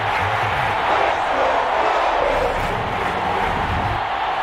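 A stadium crowd in Madden NFL 23 during a Chicago Bears vs Atlanta Falcons game gives off a steady, dense roar with faint cheers rising through it, a broad wash of noise that continues throughout.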